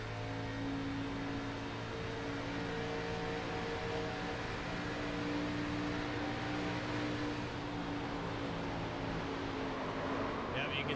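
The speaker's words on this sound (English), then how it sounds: "We're going to listen in on the 3s on board." Onboard sound from the number 3 race car at Kentucky, a steady loud engine drone with a constant pitch, roaring without letup alongside broad road and wind noise.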